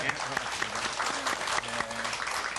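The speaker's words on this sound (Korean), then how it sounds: "박수로 부탁드려볼게요." A studio audience on a live parenting television program applauds, a steady, sustained round of clapping with people talking over it and a faint tonal backing underneath.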